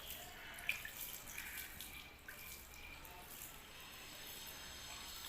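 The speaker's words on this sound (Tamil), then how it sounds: "அதில் இப்படி தண்ணி தெளித்து விட்டுருங்க." Water sprinkled by hand over freshly planted potted moss roses (portulaca), a soft broad spray with light drips and patter, fairly faint and steady with no talking.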